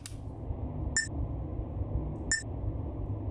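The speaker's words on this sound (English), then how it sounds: "The thing that like beeps annoyingly all the time." A proximity alerter in a video game gives two short, bright electronic beeps about 1.4 seconds apart over a steady low ambient hum.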